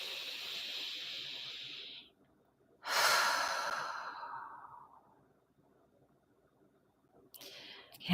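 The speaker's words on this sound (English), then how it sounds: "go ahead and pause, take a breath" Slow, deep breaths taken in a quiet room during an EFT tapping session: a long exhale fades out, then a strong audible inhale swells and tapers off, with another breath starting at the end.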